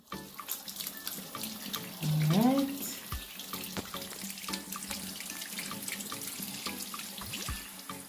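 Tap water runs into a bathroom sink to wet a makeup brush: a steady near splash and trickle, with a brief louder gush partway through and a faint voice talking in the background.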